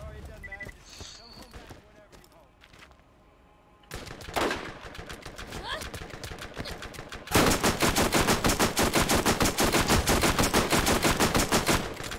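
Borderlands gunfire builds from scattered shots to steady, rapid automatic bursts that grow louder and denser toward the end, with people talking during the firefight.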